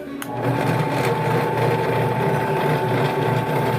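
General International 8-inch bench mount drill press running and drilling, a steady loud motor whine with a constant hum that holds evenly throughout, with no talking.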